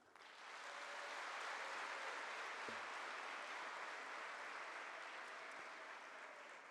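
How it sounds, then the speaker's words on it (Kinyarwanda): A seated audience at a 2023 World Teachers' Day ceremony in Rwanda gives sustained applause for teachers, swelling quickly into a dense, even wash of clapping that holds steady for several seconds. "Ndagira ngo mu ntiza amashyi menshi dushimira abarimu bose"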